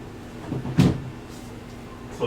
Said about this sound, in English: Close my bedroom door.